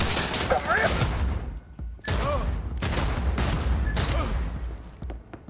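Dense gunfire bursts in the video game Cyberpunk 2077, sustained rapid shots in several loud waves separated by brief gaps, with a voice speaking over the shooting.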